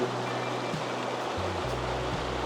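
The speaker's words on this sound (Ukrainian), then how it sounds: "А зараз поки що просто красивий струмочок." A small mountain stream in the winter Chornohora ridge of the Carpathians flows steadily, a continuous close rushing of water without pauses, with faint low tones in the background.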